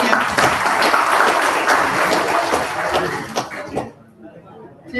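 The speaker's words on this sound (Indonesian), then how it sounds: "Tepuk tangan buat Pak Subhan ya." An audience at an organisation's chairperson election meeting claps loudly and steadily with some chatter mixed in, then the clapping breaks off abruptly near the end, leaving a few scattered claps.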